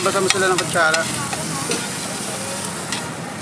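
Steady crackling sizzle of Filipino pork sisig on a hot plate at a street food stall, with brief voices and clatter at the start, fading to a continuous hiss.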